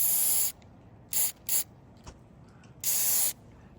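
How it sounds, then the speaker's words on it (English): Lubricant sprayed from an aerosol can onto a greenhouse roof piece, several short hissing bursts, one long, two quick ones, then another long spray, close by and clear against a quiet background. "So I'm gonna spray some up there and then we'll spray it on the piece we're sliding in."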